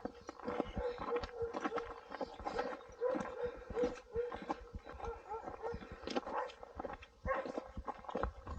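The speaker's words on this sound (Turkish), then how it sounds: "Havlayıp havlayıp yoruluyor sonra." A dog barks over and over from a distance somewhere along the Lycian Way hiking trail between Adrasan and Çıralı, with steady rustling and footsteps close by and no talk.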